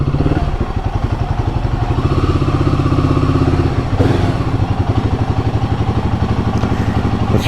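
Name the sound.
Royal Enfield Guerrilla 450 motorcycle engine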